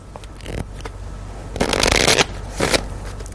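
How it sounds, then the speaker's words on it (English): Playing cards being shuffled, with a couple of short riffling bursts that build to a louder, crisp flutter before trailing off, close up. "I'll give another quick shuffle"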